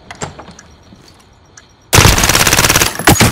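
Automatic gunfire in a video game Search and Destroy match: quiet scattered shots at first, then a sudden loud, sustained burst of rapid fire lasting over a second.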